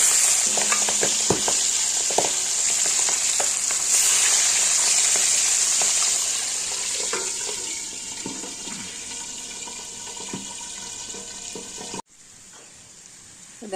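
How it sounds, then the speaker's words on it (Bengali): Pabda fish frying in a pan, a loud, steady hiss of oil with scattered clinks and scraping, dropping abruptly to a quieter sizzle near the end. "পাবদা মাছটা কিন্তু এখন ভাজবো।"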